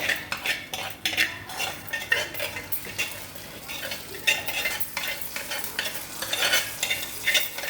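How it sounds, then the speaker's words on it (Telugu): Hot tempering of mustard seeds is poured into a cucumber curry and stirred. A soft sizzle runs under repeated clinks and scrapes of a spoon against the pot. "ఇప్పుడు ఇది తిరగమాత పోసేస్తానండి చక్కగా"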